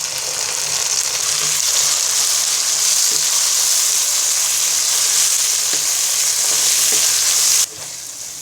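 Chopped onions frying in hot oil toward brown for a pea and snakehead fish masala curry, a loud steady hiss close up with a few faint utensil taps, cutting off sharply near the end.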